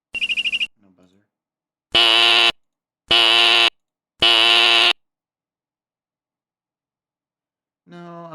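A harsh electronic buzzer sound effect blares in three identical loud bursts of about half a second each, spaced roughly a second apart, after a shorter opening blast, with silence between and a brief tonal sound at the end.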